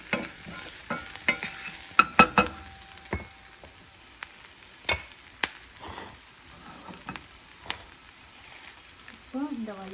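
Onions sautéing in a pan for Vallarai keerai (brahmi leaf) chutney, heard as soft frying with a spatula scraping and stirring in scattered, close strokes, with no talk.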